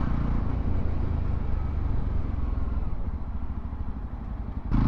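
A Yezdi Roadster motorcycle engine drones steadily and loud throughout while being ridden and accelerated, a continuous rumbling roar with wind noise and no talk.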